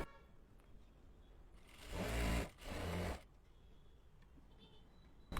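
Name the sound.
sewing machine stitching a salwar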